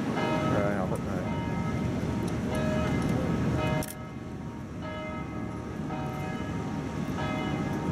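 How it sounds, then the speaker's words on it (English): A church bell rings repeatedly at noon amid busy background noise and people talking, its strokes resonating under the chatter at a moderate distance, heard while sailing into Venice. "It's a 12 o'clock bell on it."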